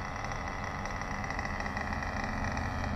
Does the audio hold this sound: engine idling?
yes